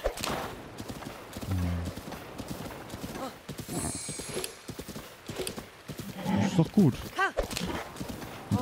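Horse hooves clip-clopping at a gallop in The Legend of Zelda: Breath of the Wild, with a brief whinny, game music and someone talking over it in German.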